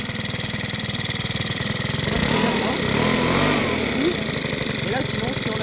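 A small garden tool engine runs just after starting, a steady, buzzy idle close by with a slight surge in the middle, while someone talks over it.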